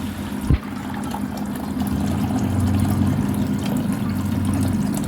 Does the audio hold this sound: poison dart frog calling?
no